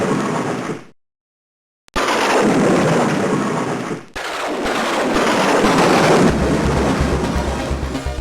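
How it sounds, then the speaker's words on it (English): Thunder and lightning in the opening of the DOS game One Must Fall 2097: loud crackling thunder bursts, broken by a sudden second of silence, then heavy booming rumbles that roll on steadily. "between the lightning and the music coming in"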